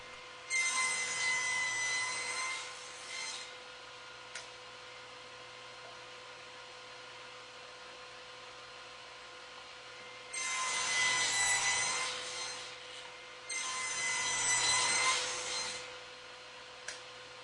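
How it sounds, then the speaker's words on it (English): A table saw with a sled cuts tenons on wooden apron rails for a child's table, three separate bursts of buzzing blade noise through wood, the first about two seconds long, with a quiet motor hum between passes. "Now cutting the tenons on both sides of my apron rails."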